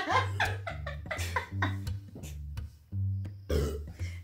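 A burp comes during a Sprite don't-burp challenge, mixed in with laughter and voiced chatter between friends, fairly quiet and close.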